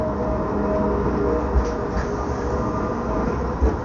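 A tram travels along the tram line near Piccadilly station with a continuous loud rolling rumble and a couple of faint rail knocks, close by, with no voices.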